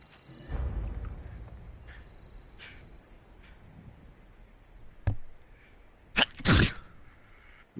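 A single sharp sneeze bursts out near the end, loud and close, with quieter scattered rustles and faint background noise earlier on.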